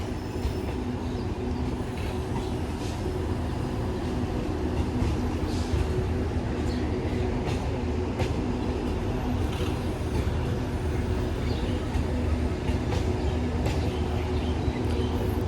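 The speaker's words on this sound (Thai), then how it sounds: "กับสามสองเคลื่อนไปอย่างช้าๆเข้าย่านนะครับ เคลื่อนไปเรื่อย" Long-distance passenger train creeping slowly into the Bang Sue depot yard, producing a steady heavy rumble with faint metallic wheel squeals and clicks, continuous and fairly near.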